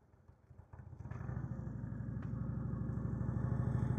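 A motorcycle idles and putters at slow speed during riding skills practice, heard from a distance at first and growing steadily louder and closer, with a steady low throbbing rumble.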